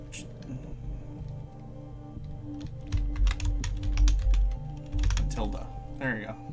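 Rapid clicking of a computer keyboard as a name is typed, with quick bursts of keystrokes mixed with light game interface sounds while someone talks throughout.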